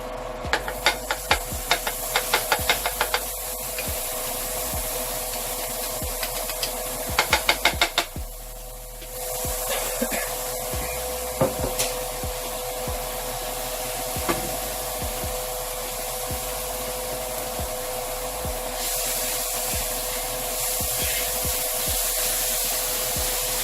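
Butter and minced garlic sizzle in a pan with a steady, close hiss that runs throughout, broken by scattered clicks and a cluster of scraping taps early on.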